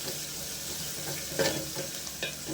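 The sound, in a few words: frying rasam ingredients in a little oil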